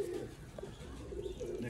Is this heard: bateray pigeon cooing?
yes